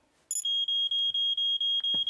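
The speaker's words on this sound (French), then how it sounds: "j'ai un détecteur de fumée comme tu me l'as demandé" A smoke detector sounds its test alarm in an animated firefighter cartoon: a shrill, piercing electronic beep repeats rapidly in short, evenly spaced pulses, loud and close, with no talking over it.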